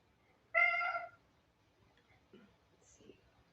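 A single clear, close meow from a pet cat, followed by faint rustling and quiet background sounds.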